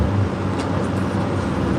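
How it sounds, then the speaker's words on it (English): A loud stock Cummins diesel truck engine gives a continuous, dense rumbling drone at close range that holds steady throughout, without speech. "Excuse my loud truck."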